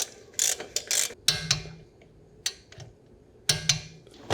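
Ratchet wrench tightening the brake caliper bolts on an Alfa Romeo Stelvio, close clicking bursts of pawl ticks in short uneven strokes separated by brief pauses, with no talking.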